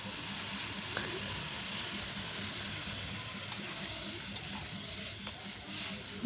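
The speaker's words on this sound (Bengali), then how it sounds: "এবার ওকে নাড়তে থাকবো, অনবরত নাড়তে থাকবো যখন লাল লাল হয়ে আসবে" Chopped onion fries in spices while being stirred continuously, with a steady, dense sizzle throughout and a few faint utensil clicks.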